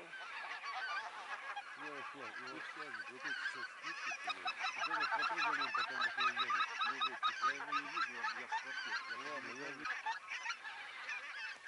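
A flock of geese honking in a field during a goose hunt in Belarus, many overlapping nasal honks in a steady chattering chorus, fairly distant and faint, growing busier toward the middle.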